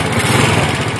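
Honda TMX 125 motorcycle engine fitted with a 6.3 cam runs close and loud, a rapid, even buzzing putter with no talk over it.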